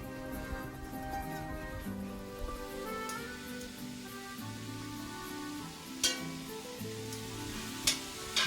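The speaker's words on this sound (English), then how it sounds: "We're going to saute this up a little bit" Thin steak sautéing in a pan for an Italian steak sandwich, giving a steady, faint sizzle with a few sharp crackles and pops toward the end.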